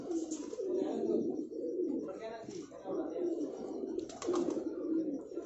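Pigeons coo in a continuous low, throaty murmur, nearby and steady, while people talk over it.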